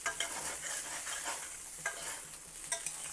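A spatula stirs sliced spiny gourd rounds frying in a pan, with soft repeated scraping and clicking strokes over a gentle sizzle; quiet and close, no talking.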